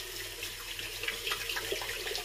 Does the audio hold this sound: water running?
yes